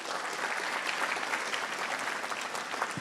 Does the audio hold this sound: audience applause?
yes